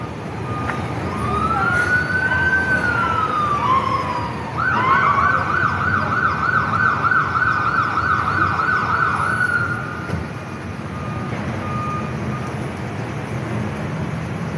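An ambulance siren wails up and down, then switches to a fast repeating yelp before cutting off, loud over a low traffic rumble in Vancouver.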